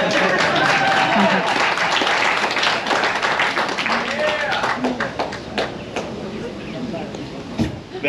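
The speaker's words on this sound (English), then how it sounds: "Sometimes people clap." A small group of people claps outdoors, brisk dense clapping near the start that thins and fades over several seconds, with a few voices mixed in.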